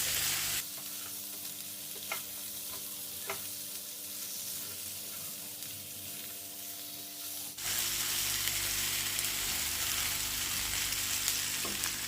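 Potatoes fry on a medium to high flame in a steady, close sizzle, with a few faint clinks of stirring and the frying growing louder and brighter partway through; no voices.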